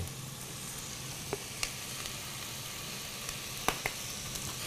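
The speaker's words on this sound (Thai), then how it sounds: "ขั้นตอนของการผัดผักนี่นะฮะเป็นขั้นตอนที่สำคัญนะครับ" Onions and vegetables stir-frying in a pan for chicken noodle soup, a steady soft sizzle with a few sharp scrapes and clicks of a utensil against the pan, no voices.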